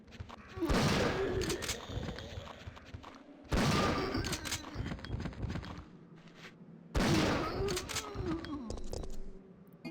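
Three heavy shotgun blasts at evenly spaced intervals, each followed by a long rumbling decay and game noise, as zombies are shot in Resident Evil 3 Classic.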